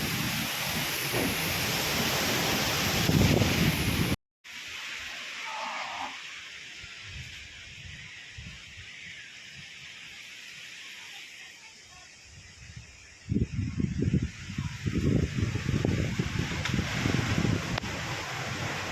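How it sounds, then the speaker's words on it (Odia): Strong wind gusting loudly outdoors, a broad roaring rush that cuts out briefly, returns softer, then swells again with buffeting bursts near the microphone. "କେତେ ଜୋରରେ ପବନ ହେଉଛି।"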